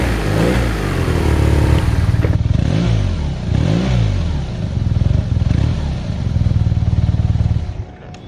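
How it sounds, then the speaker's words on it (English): A 2023 BMW R nineT Option 719 with a laterally mounted boxer engine is revved repeatedly, loud close blips rising and falling over a throbbing idle, with no talking. "when you rev the engine"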